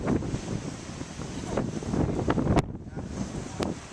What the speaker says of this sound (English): It's pretty windy, rainy.